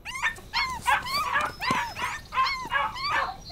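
Small pug dogs bark and yip repeatedly in quick, excited bursts, fairly close and loud, with a few whimpering tones mixed in and no talking.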